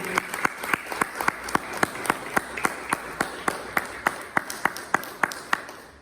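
A church congregation claps in a steady, evenly spaced rhythm, the sharp beats repeating about three times per second over a soft background of crowd sound.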